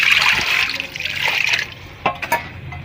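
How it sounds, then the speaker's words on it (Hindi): Water poured into a cooking pot holding mutton pieces, a steady close splashing stream that tapers into a few trickles and drips near the end. "ये हमारे पास है मटन का गोश्त और इसके अंदर हम डालेंगे पानी"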